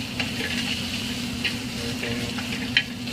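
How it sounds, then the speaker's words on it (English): Shallots frying in bacon fat in a pan, a steady close crackling sizzle with soft intermittent stirring scrapes and one sharper clink near the end, no voices. "Keep the oil in the pan. We're gonna throw in some shallots."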